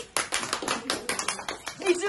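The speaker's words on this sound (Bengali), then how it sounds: "বাবা হাততালি দাও সবাই" Several people clap their hands together in a short burst of uneven, rapid claps, fairly close, with children's voices audible alongside.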